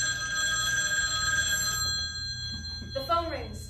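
An old rotary telephone rings with a steady electric bell on a stage, trilling continuously before cutting off; a voice begins speaking near the end.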